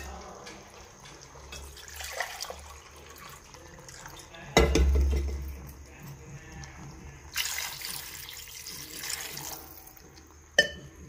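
Water poured into a cooking pot while preparing rice, heard in short splashing bursts between quieter stretches, with a sharp clunk of the pot and a closing knock, speech faintly present around it.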